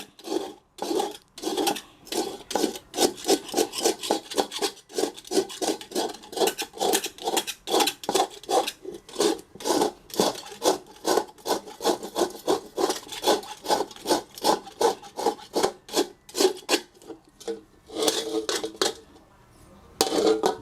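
Repeated rasping scrapes of a tool working burnt, blackened residue off the bottom of a cooking pan, a steady rhythmic series of strokes at close range with a brief pause near the end.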